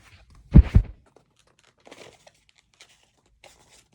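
Kaijudo trading card booster packs torn open by hand without scissors: a short burst of crinkly foil tearing near the start, followed by a few faint rustles and crinkles scattered through otherwise quiet air.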